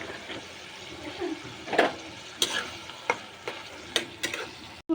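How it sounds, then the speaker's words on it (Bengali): Dried fish (shutki) is stirred into a cooked-down spice paste with oil, a low sizzle broken by repeated clicks and scrapes of a spatula against the pan. "শুটকিগুলো দিয়ে আমি কিছুক্ষণ নেড়ে নিলাম।"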